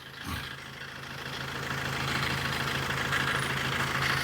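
A 2010 Maruti Ritz car engine idles continuously with a steady, low hum at constant pitch, close by and moderately loud, with no voices.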